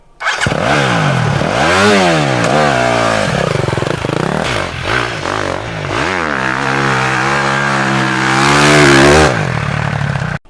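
A motorcycle rides down a sand slope during off-road training at Ādaži, its engine loud and close, repeatedly revving up and dropping back with a rough, clattering throttle.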